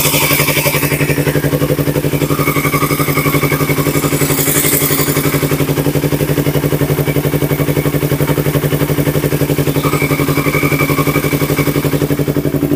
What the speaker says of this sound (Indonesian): gua bakal ngasih mikrofon gua ke posisi dekat mesin teman-teman, biar teman-teman bisa dengar suara mesinnya teman-teman.